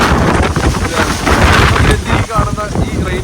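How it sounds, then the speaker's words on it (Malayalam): Strong, misty wind in the hills of Munnar buffets the microphone in loud, rough gusts that roar throughout, with a voice briefly audible underneath. "കാറ്റ് വരുമ്പോൾ നമ്മളെ തള്ളിക്കൊണ്ട് പോവാണ്"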